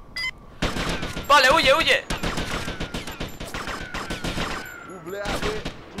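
Gunfire in GTA: Vice City, a dense fusillade of rapid shots crackling in bursts under loud, hurried shouting and talk across the whole stretch.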